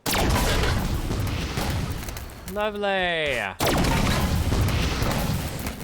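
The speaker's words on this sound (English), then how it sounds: "Not just one explosion, it's 2 or 3." Loud, dense blasts from a weapon in Halo 5 fire in a sustained burst of two or three explosions, then break for a moment while a voice exclaims, before another heavy roar of explosions resumes.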